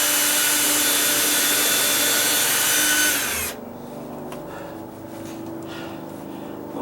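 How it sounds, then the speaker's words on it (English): A power drill runs loud and steady for about three seconds while pre-drilling wood, then cuts out, leaving a quieter mechanical hum and faint background noise. "I'm going to drill this up into the first one."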